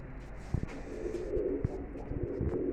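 Soft, low cooing from pigeons or doves, repeated in a steady murmur over a dull background rumble with a few thumps.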